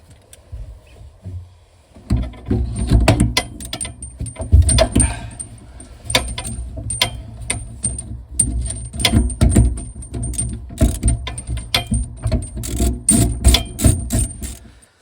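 Ratchet tightening a fitting on a Worcester Bosch boiler, a quiet start, then repeated sharp metallic clicks in bursts with clanks and rattles of tools, close and fairly loud.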